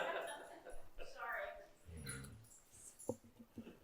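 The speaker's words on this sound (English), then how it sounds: "Keep your dog in order over there, Judy" A dog whimpers and yips in a meeting room, the small whines coming in short bursts amid a murmur of voices and room noise.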